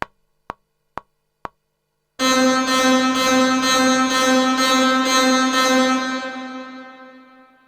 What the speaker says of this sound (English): recorded also the tail from the reverb.